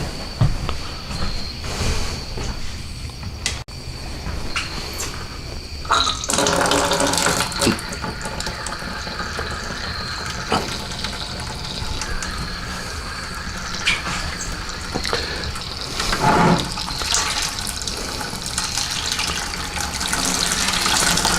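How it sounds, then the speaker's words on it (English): Pumpkin bourbon mash drains and splashes into a fermenter during sparging, a continuous loud rush of pouring liquid with surges and gurgles, no talk. "let's sparge this over into our fermenter here"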